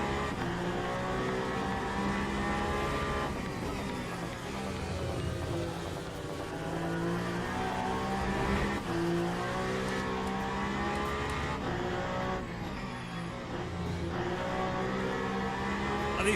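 Race car engine in a racing video game holds a steady, buzzing drone while cruising at moderate pace, its pitch shifting gently with the throttle, loud and continuous throughout.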